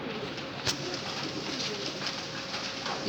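Soft, continuous cooing from several pigeons, low and murmuring under a quiet ambient hiss, with a brief click partway through.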